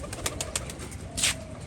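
Pigeons in a rooftop loft, among them a Rajshahi hen and a green cock, give soft low coos under a few sharper bright bursts and possible wing flutters, fairly close and continuous.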